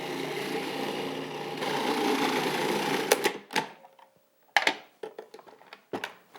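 A food processor runs loud and steady, blending raw not-tuna pâté, then stops abruptly, followed by a few short pulses and clattering handling of the machine.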